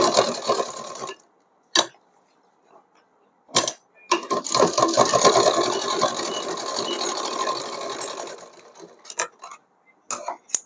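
A sewing machine stitches a small dress for a Laddu Gopal doll, running in a few short bursts and then one long steady whirring stretch, close and fairly loud.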